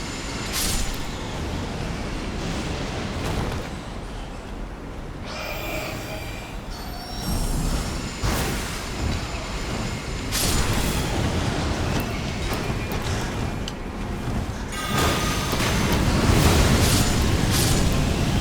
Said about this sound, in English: That's Sasuke's fire style